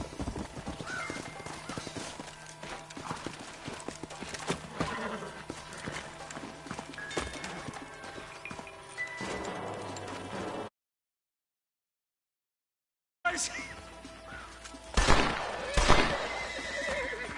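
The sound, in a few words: horses neighing and hooves in video game Red Dead Redemption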